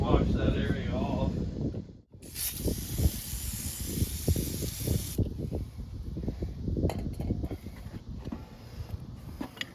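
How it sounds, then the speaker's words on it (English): PB Blaster penetrating oil sprayed from an aerosol can onto a generator engine during a repair, a single sharp, close hiss lasting about three seconds between stretches of someone talking. "Let me get some PV blaster, wash that area off."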